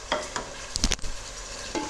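Peeled, chopped potatoes tipped into a pan of frying aloo moongre masala and stirred, giving a few soft scrapes and clatters over a faint sizzle, with a brief cluster of sharper utensil clinks midway.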